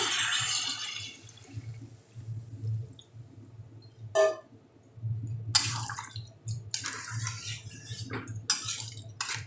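A little water is poured into a pan of mixed vegetables as they cook, giving splashy bursts and clinks of utensils against the pan. The sounds come in uneven spurts over a low background hum, close by and with no speech.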